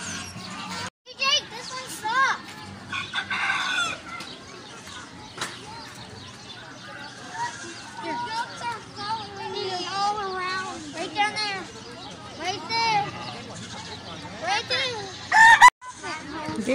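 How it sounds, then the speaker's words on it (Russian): On a petting farm, roosters crow and hens cluck in scattered bursts, some near and some farther off, while children and adults chatter around them. "Здесь петухи, курицы."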